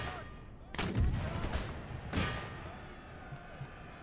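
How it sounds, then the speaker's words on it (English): Canister shot artillery fire in the Empire Total War video game, two sharp cannon volleys about a second and a half apart that cut through a steady rumble of battle ambience, with faint thuds afterward. "Canister shot."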